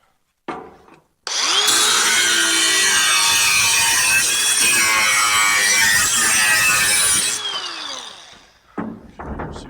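A power tool grinds and cuts through metal on a car conversion, starting after a short knock and running loud and steady for about six seconds before winding down, followed by a few clunks.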